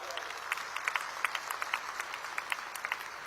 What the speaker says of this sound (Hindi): बच्चियों के लिए एक बार जोर से ताली बजाओ जरा।